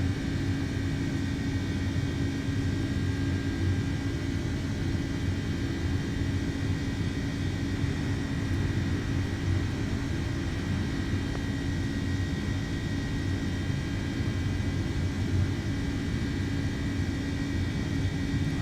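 An MD-11 freighter's jet engines in the X-Plane 12 flight simulator give a steady, loud cabin drone with low rumble and sustained high whining tones, unchanging throughout with no voices.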